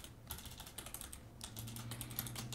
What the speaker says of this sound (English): and then type in a message just like that